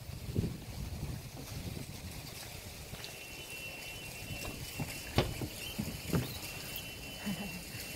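Steady rain falling outdoors, a continuous soft pattering hiss with occasional sharper drips and taps, moderately close, with wind-like rumble underneath and no talking.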